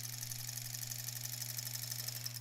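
A sewing machine stitching a quilt runs with a steady, even motor hum for the whole stretch, close and constant with no talking.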